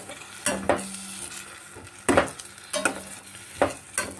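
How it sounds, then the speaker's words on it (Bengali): A spice mixture loosened with hot water is stirred in a pan, giving bursts of spatula scraping and clinks against the metal over a low bubbling sizzle. "দিয়ে আমি মশলাটাকে আবার ভালো করে মিশিয়ে নেব।"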